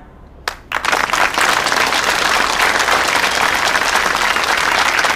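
Warm, sustained applause from a large meeting hall audience welcoming the 18th National Congress of the Chinese Communist Party, rising sharply after a few opening claps into loud, even clapping that fills the room.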